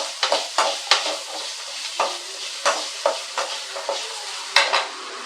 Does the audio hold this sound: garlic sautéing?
yes